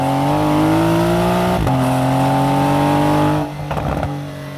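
A 2024 Porsche 911 Carrera T coupe with its standard sports exhaust accelerates hard, the engine note rising steadily through a gear, pausing for a quick shift, then climbing again before backing off, loud and close.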